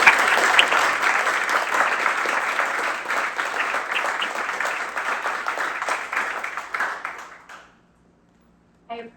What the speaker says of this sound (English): let's take a moment for a round of applause again